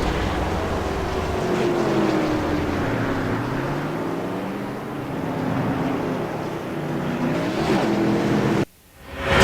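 Race cars roar around Richmond International Raceway in a Children's Dream Racer Cup Series race, engines droning loud and continuous with pitch rising and falling as they pass, before a brief drop and a sharp swell at the end.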